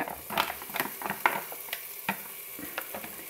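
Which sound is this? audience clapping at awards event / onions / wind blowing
onions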